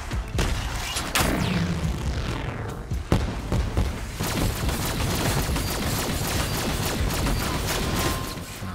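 Rapid gunfire in Call of Duty zombies on the Der Eisendrache map, dense bursts of automatic shots with a couple of heavy booms, loud and continuous with clattering mechanical sounds throughout.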